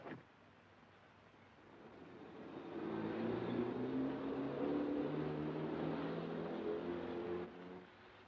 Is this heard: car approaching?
yes